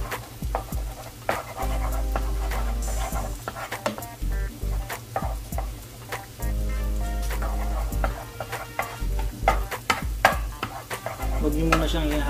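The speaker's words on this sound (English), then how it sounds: "lutuin na natin yung itlog dito. Sa gitna lang ng pan." An egg fries in the middle of a pan beside crab fat paste, with a continuous sizzle broken by frequent scraping and tapping of a utensil against the pan.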